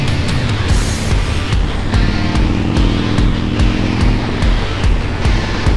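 A Harley-Davidson Dyna Street Bob with new handlebars rides along, its engine a loud steady rumble with pulsing throttle and heavy wind rush throughout, no talking.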